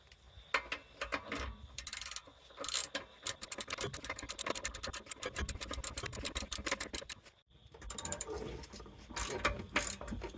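A ratchet wrench tightens the rear shock bolt on a Toyota Sienna minivan in a rapid, close clicking rhythm, pausing briefly before the clicking resumes.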